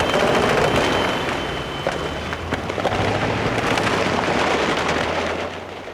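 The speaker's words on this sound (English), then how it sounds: "Then an American machine gun opened up and we raced for safety." Automatic gunfire from an American machine gun during fighting in Iraq in 2003, a dense crackle of rapid bursts and scattered shots continuing throughout over steady battlefield noise.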